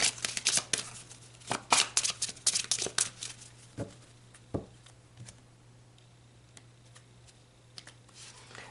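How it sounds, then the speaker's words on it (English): Tarot cards are shuffled and pulled close by, with quick riffling bursts and flicks at the start, then sparser single snaps and soft taps of cards being laid down. "Let's pull some more cards."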